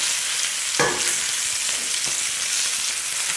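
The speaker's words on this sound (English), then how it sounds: "We're gonna let it sear for about 3 or 4 minutes." A steak searing in a hot pan, a loud, dense, continuous sizzle heard up close with a few soft pops and no talk.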